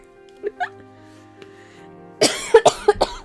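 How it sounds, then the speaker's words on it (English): Several sharp coughs in a quick cluster, close and fairly loud, following a quieter stretch with a couple of small throat sounds. "Oh, there goes the coughs again."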